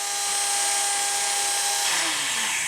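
A Timber Tuff chainsaw sharpener grinds chainsaw chain teeth close by with a steady high-pitched motor whine. Near the end the whine slides downward as the tool winds down.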